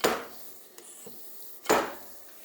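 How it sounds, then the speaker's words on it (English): The upper tube of a Kawasaki KX65 fork drives a new fork seal into place with two sharp, close metallic knocks about two seconds apart. The knocks are separated by quiet handling sounds. "we can use the fork tube to hammer down"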